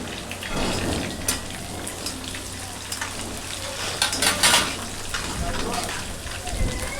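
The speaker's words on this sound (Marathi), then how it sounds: "आता आपण कांद्याची पात टाकून घेऊया." Spring onion greens fry in hot oil in a wok, giving a steady crackling sizzle with a few louder pops and spatters near the end, close and fairly loud.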